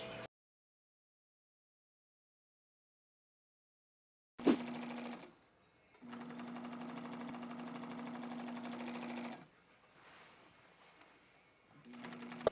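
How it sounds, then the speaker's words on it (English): A Juki industrial sewing machine starts up after a silent stretch, whirring steadily with a rapid mechanical hum for several seconds, then stops briefly and starts again. "I'm at the trusty Juki sewing machine."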